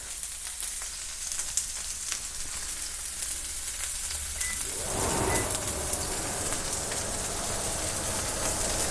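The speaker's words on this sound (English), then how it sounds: "give them a nice, gnarly saute" Onions and peppers sautéing in a hot pan for a plant-based sausage sandwich, a steady broadband sizzle that swells louder and busier midway as more food hits the heat, continuous and close with no talking.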